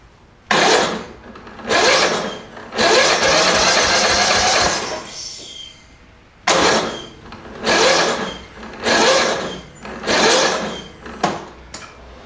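A Murray lawn mower engine is hard-cranked over and over: about seven loud, raspy churning bursts of a second or two each, separated by brief pauses, up close and without catching.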